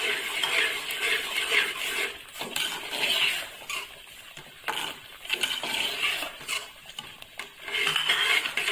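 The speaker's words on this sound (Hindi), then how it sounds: "अब इसको अच्छे तरीके से मिक्स कर देंगे" A spoon scrapes and clinks against a pan while suji halwa with crushed coconut, raisins and almonds is stirred, giving steady rhythmic scraping with brief metallic taps and short pauses, close up and without talk.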